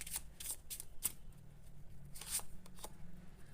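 A tarot deck shuffled by hand near the microphone, with quick crisp card snaps and rustling riffles at an uneven pace and no voice over them.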